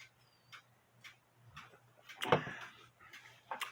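A 1950s Poppo musical cuckoo clock with a count wheel ticks steadily and close by, with soft, evenly spaced beats and a brief louder clack partway through.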